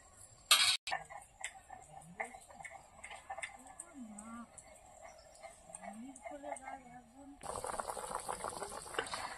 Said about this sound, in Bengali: এবার তরকারিটা ভালো করে ফুটিয়ে নেব।